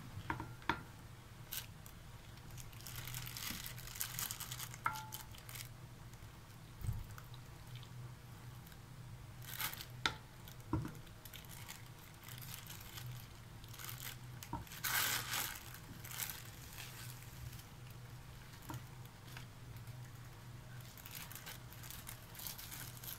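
Minced meat is scooped and pressed into a plastic freezer bag, heard as close, quiet crinkling of plastic with soft squishes and scattered clicks and taps spread unevenly over about twenty seconds.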